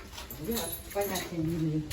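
A dog whimpers and whines in short, rising cries close by, partly under someone talking.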